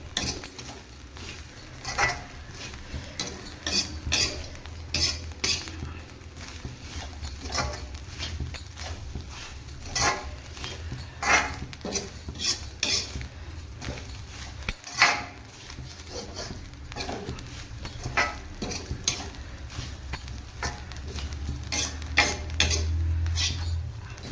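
Grated coconut roasts in a pan under steady stirring, making repeated metallic scrapes and light clinks in an even rhythm that continues close by throughout.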